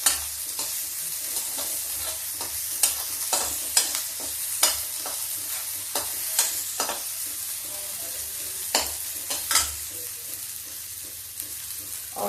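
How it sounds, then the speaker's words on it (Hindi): Onions frying in a pan for veg kadhi, a continuous soft sizzle broken by repeated sharp scraping clicks of a spoon stirring, close and alone without talk. "अब मैं इसको प्याज को थोड़ा भून दूंगी।"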